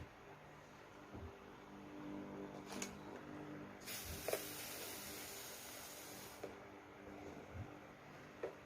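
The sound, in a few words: spraying water before ironing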